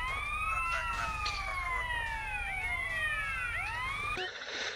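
Several police sirens wail and overlap in the game Grand Theft Auto: San Andreas, their rising and falling tones weaving steadily over a low engine rumble before cutting off abruptly near the end.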